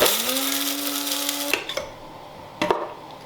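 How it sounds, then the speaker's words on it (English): An electric spice grinder whirs loudly as it grinds lime granules, a steady high motor whine for about a second and a half, then cuts off, followed by a few clattering knocks of the granules and the grinder. "Spice grinder works pretty well for this."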